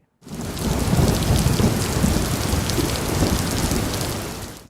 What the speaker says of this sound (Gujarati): રાજકોટમાં ભારે વરસાદથી જળબંબાકાર પ્રકારની સ્થિતિ સર્જાઈ છે